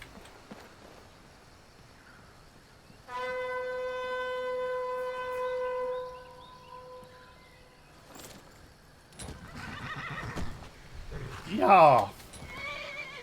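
A horse whinnies loudly for about three seconds in Skyrim, a long wavering neigh, followed by a brief word and then more busy game sounds with a sharp burst.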